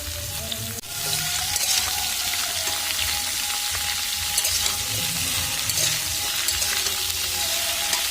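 Chopped pumpkin, potato, tomato and cucumber hit hot oil in a pan for a vegetable curry, and a loud, steady sizzle bursts in after a brief quiet start, holding evenly for several seconds with no voices.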